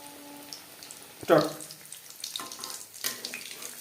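Oil frying tuna fish pakora over a medium flame gives a low, steady sizzle, with a brief louder crackle burst near the start and a few soft clatters afterward, close and fairly quiet.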